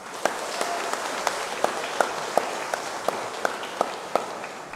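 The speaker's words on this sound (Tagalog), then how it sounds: "pumalakpak ng malakas" A congregation at a Catholic novena Mass claps loudly in a hall or church, a dense spread of hands under a row of sharp, evenly spaced louder slaps, steady throughout with no speech.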